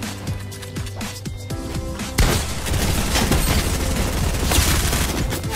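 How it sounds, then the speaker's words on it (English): Rapid gunfire from an enemy in a solo arena shooter game sounds in a dense, loud continuous barrage, with sharp individual shots at first. "This guy is still shooting at me, bro."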